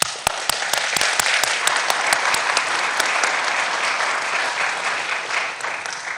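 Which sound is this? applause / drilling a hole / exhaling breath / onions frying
applause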